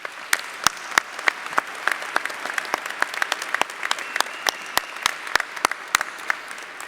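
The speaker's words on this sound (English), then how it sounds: "Please join me in applauding these special guests." Commencement crowd applauding special guests in a large hall, a steady wash of many hands punctuated by sharp, close individual claps standing out over the continuous patter, sustained without speech.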